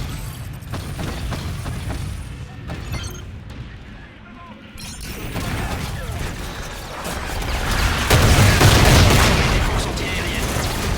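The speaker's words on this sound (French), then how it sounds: "Les canons anti-aériens s'en prennent au Jackal." Anti-aircraft cannon fire and explosions in the video game Call of Duty: Infinite Warfare, a loud battle din of booms, rapid gunfire bursts and crashing impacts that builds toward the end, with voices talking over it.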